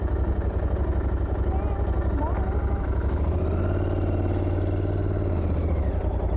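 A 47-horsepower motorbike engine rumbles steadily during a countryside ride, a low, close throbbing hum that shifts slightly in pitch, with a person talking over it.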